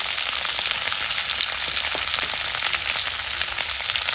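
Mixed vegetables fry with turmeric and red chili flakes in hot oil, giving a steady, close sizzle with scattered crackles and pops throughout, no voices.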